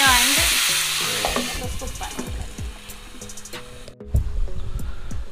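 Onions and tomatoes frying in a pan sizzle loudly up close, with repeated rhythmic scrapes and clinks of a spoon stirring against the metal and a brief spoken word.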